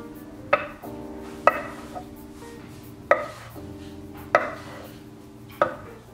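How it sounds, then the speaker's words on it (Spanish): A knife chopping a rolled log of oat tortilla dough into pieces on a board, five sharp, close taps spaced about a second apart over a low background hum. "Y la vas a cortar en 5 o 6 partes, o en 4"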